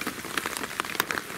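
Rain falling outside an old, flooded tunnel at a Shiga Prefecture spot: a dense, steady patter of drops hitting surfaces nearby, with scattered sharper splashes and no voices.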